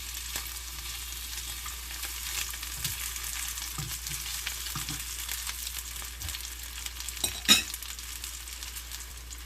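Steady sizzling of scallops searing in a hot pan over fairly high heat, a constant crackling hiss with occasional sharper pops, no voices.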